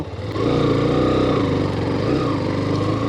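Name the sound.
Hero Xtreme 125R motorcycle engine riding off-road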